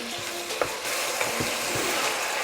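Ground beef, an 80/15 blend, sizzling and frying steadily in a pan for shepherd's pie, a dense continuous crackle with a few soft stirring clinks and scrapes close by.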